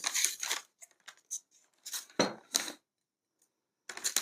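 Rustling and tearing of packaging from a vintage porcelain teapot in short, irregular bursts, with brief quiet gaps between, close by.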